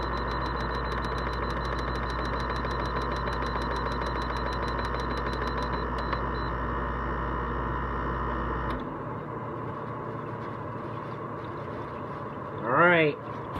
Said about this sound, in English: that's the compressor starting up